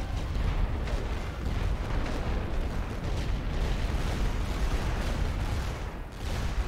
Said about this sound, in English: I've got to use artillery to try to keep them suppressed while I move anyone around